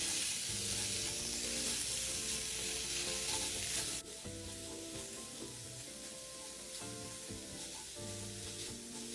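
Minced pork stir-fried in a wok with dried shrimp and garlic, a steady close sizzle with rhythmic spatula scraping and stirring, quieter after a few seconds, no voices.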